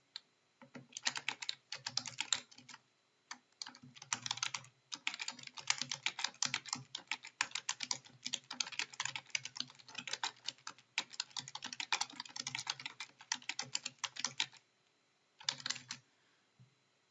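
Continuous keyboard typing on a computer keyboard while a reply is entered on a discussion board, fast irregular clicking in steady bursts with brief pauses, close and clear with no talking.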